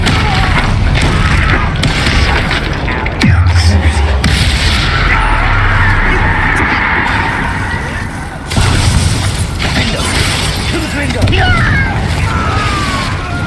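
Bombarda spell blasts in Hogwarts Legacy burst out as heavy booms and shattering crashes amid loud, busy fighting noise, with voices heard in between.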